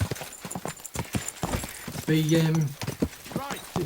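Horse hooves clip-clop in steady rhythm in Kingdom Come Deliverance 2, a medieval video game, with a brief whinny midway and someone talking over the hoofbeats throughout.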